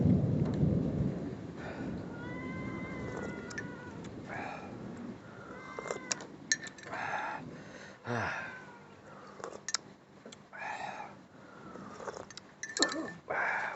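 Thunder rumbles through a rainy storm in Malaysia, low rolls and brief cracks under a steady patter of rain, fairly faint and distant, with sniffing and breathing sounds close by.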